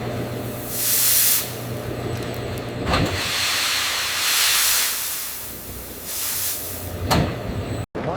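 Steam hissing in an insect feed processing plant turning black soldier fly larvae into feed, with broad loud hiss bursts that rise and fade over machinery hum, plus brief sharp releases.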